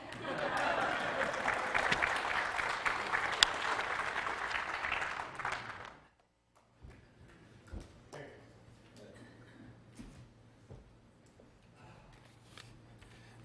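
A church congregation applauds after a sermon, a moderate, steady patter of clapping for about six seconds that stops abruptly, leaving quiet room noise and faint movement.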